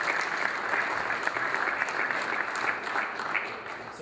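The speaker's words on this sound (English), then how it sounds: "a round of applause for your 2012 USA Men's National Team" A large crowd claps steadily, a dense wash of applause that continues throughout, for the 2012 USA Men's National basketball team in Washington, DC.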